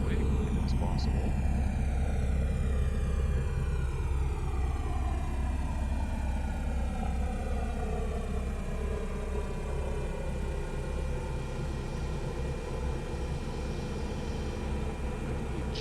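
A simulated B-17 bomber taxis off the runway after landing in Microsoft Flight Simulator 2024, its piston engines droning steadily and loudly throughout with a constant low rumble and no pauses.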